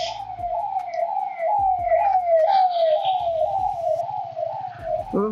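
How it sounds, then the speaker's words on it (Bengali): An ambulance siren wails in rapid, regular rising-falling cycles, loud and close on a road, heard from a Honda CB350RS motorcycle whose low engine thrum pulses underneath. "অ্যাম্বুলেন্স"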